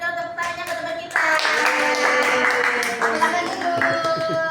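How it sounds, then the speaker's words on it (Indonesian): Schoolchildren in a classroom clap for their classmates after a role-play, a sustained burst of hand claps starting about a second in, with voices of children chattering underneath throughout. "Beri dong tepuk tangannya ke teman kita"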